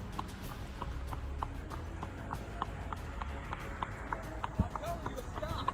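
Horse hooves clip-clopping at a steady walking rhythm on a hard street surface, sharp repeated clops heard clearly over low background noise.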